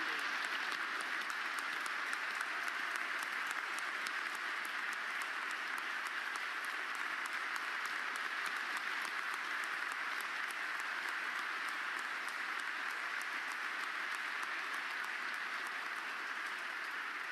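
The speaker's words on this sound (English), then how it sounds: "I told you to be rapturous applause." Rapturous applause fills a university graduation ceremony: a dense, even roar of clapping from a large crowd that holds steady throughout, with no voices rising above it.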